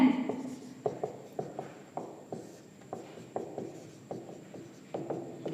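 A pen or chalk writes out a math value again after it was erased, giving a steady run of soft taps and strokes with quiet talk underneath.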